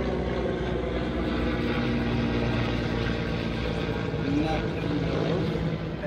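Several helicopters circle overhead in a Resident Evil game scene, a steady, dense rotor drone that holds evenly throughout without pause.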